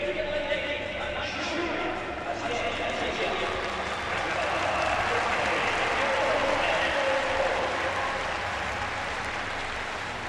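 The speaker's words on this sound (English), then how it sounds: "Tremendous crowd in on the back straight of the International Stadium." A large crowd at an outdoor athletics stadium's back straight applauds steadily during a relays meet, a broad continuous wash of clapping and cheering with a commentator's voice running over it.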